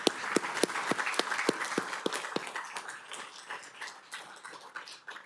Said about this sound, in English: I'm going to applaud you